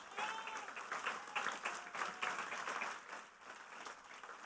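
A church congregation claps loudly in praise of God during a sermon. The applause is dense and rhythmic, close and lively, and rises and falls in waves for several seconds with no talking over it.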